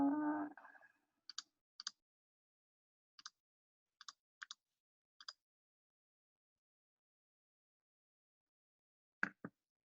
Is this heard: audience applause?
no